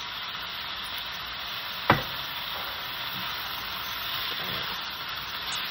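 Chicken pieces browning in a frying pan for harissa chicken, a steady close sizzle throughout with a sharp clatter of a utensil near the start.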